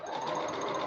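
A sewing machine runs steadily while stitching a garment, a close, continuous mechanical whir with a fast, even rhythm throughout, with no pauses and no voices.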